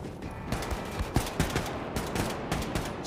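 Gunfire in Wolfenstein II: The New Colossus, a series of separate sharp shots fired at an uneven, semi-automatic pace, fairly close, no one speaking.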